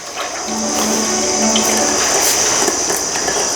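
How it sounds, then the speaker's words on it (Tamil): Wood-pressed cold-pressed coconut oil, about ten litres, poured into a container, giving a steady, close, continuous liquid rush with an even hiss and no breaks. "இந்த தேங்காய் எண்ணெய் ஒரு பத்து லிட்டர் ஊற்றிக்கலாம்"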